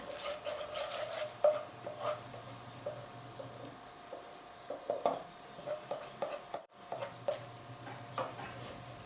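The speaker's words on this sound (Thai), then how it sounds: "เราจะคั่วกะทิให้ให้แตกมันก่อนนะคะ" Coconut milk is stir-fried in a pan until its oil separates, giving a quiet bubbling sizzle with soft, irregular scraping and stirring taps throughout and a brief dropout midway.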